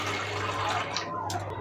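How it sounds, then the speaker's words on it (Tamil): A cup of soaked old rice water poured into a pot, a steady close splashing, gurgling stream that tapers off near the end. "இந்த ஒரு கப்பு நான் ஊற்றிக்கிறேன்."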